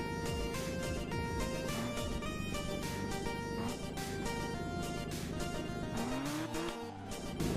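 Engine and tyre noise from a car being driven forward and in reverse in the parking video game Try Hard Parking, a steady loud whine with skids and revs over continuous game music.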